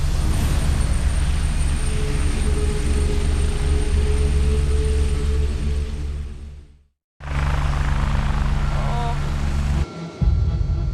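A loud, steady helicopter engine roar with low rumble fills the cabin of an air ambulance carrying a patient in Melbourne, cutting out briefly before resuming just as strongly.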